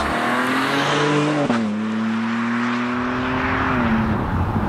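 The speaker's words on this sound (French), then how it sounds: "d'avoir là le 6 cylindres en ligne M Twin Turbo de 460 chevaux et 550 Nm" A BMW M2's 460-horsepower M TwinPower Turbo inline six-cylinder drones steadily at highway cruising speed, with a clear humming engine tone that dips briefly as if on a gear change, then holds steady under road noise.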